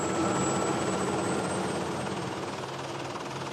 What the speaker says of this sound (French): À bord de cet hélicoptère, Benoît Dessin vient inspecter le lit de la Truyère.